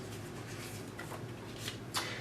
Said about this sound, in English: Let's get to shuffling and see what we got here for Geminis